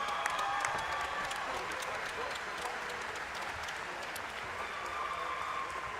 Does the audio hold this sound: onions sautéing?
no